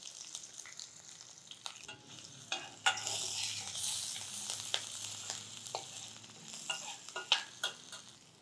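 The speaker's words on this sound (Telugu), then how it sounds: "జీలకర్ర వేగిపోయింది, కొంచెం కరివేపాకు వేద్దాము." Cumin seeds, curry leaves, green chillies and ginger fry in a pan of oil with a bright, crackling sizzle that swells midway, punctuated by occasional stirring knocks and pops, with no voices.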